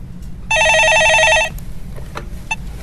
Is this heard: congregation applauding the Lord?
no